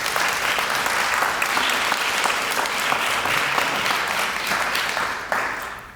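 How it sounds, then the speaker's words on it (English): An audience at a school district's State of the Schools address applauds steadily, a dense, even clapping that holds for several seconds before thinning out near the end. "Please give them a round of applause."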